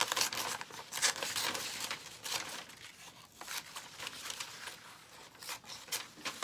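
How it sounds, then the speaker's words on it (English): A magazine page being crinkled and torn out in a run of short rips and rustles, close by and fairly quiet, with no voices. "I can rip that on out or grab my scissors and cut it out"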